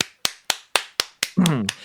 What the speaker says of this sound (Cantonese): 歡迎啦，拍手嘅